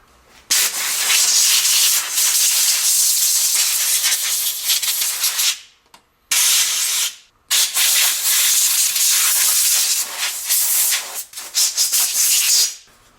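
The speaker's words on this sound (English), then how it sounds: "I'm going to use compressed air, to clean all the stuff off here." Compressed air blasts dust off the circuit board of an Xbox 360 with the red ring of death fault, a loud broadband hissing rush in long sustained bursts broken by a few short pauses, close up with no talking.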